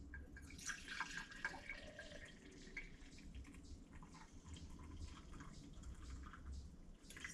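Hot coffee pours from a pot into a thermos, a steady liquid trickle with dripping, splashy detail at close range and no talking.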